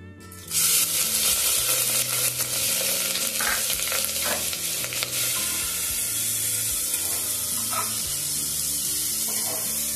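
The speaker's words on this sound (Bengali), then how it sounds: "এর দেড় থেকে 2টো মতো পেঁয়াজ আছে, কুচি করে নিয়েছি, সেটাই দিয়ে দিচ্ছি তেলের উপরে" Chopped onions, about one and a half to two, hit hot oil in a pan and sizzle steadily and loudly, with stirring scrapes and clinks throughout, no talking.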